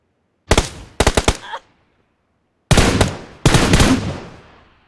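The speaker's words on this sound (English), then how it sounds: "Tap left fire button to shoot." Bursts of rapid automatic gunfire ring out in a mobile battlefield shooting game, first a short burst then a quick volley, a pause, then two longer sustained bursts, loud and sharp with no voices.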